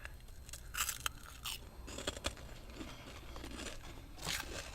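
Crunchy chips being chewed up close in a quiet setting, with several sharp crisp bites and crackling crunches spread across the stretch, followed by softer chewing and one more burst of crunching near the end.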